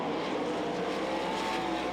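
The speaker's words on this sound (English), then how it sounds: "Chuck Swenson takes the X car to the inside of West." Sprint cars race at the Knoxville Nationals, their engines making a loud, steady, close roar that runs unbroken from start to end with no voices.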